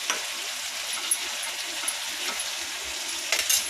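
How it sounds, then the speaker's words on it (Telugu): Brinjal and tomato curry stirred in a pan, a steady close sizzle with soft scraping and occasional light clicks of the utensil, no voices. "మంచిగా కలుపుకొని"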